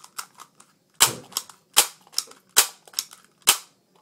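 A modded Nerf handgun fires again and again, each shot a sharp, loud snapping crack, close up, in an uneven series of about eight strong shots with fainter clicks between them and no talking.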